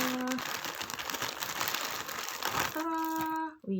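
Product packaging for bakhoor incense being torn open by hand, a close, dense crinkling and ripping rush, with a voice talking briefly at the start and end.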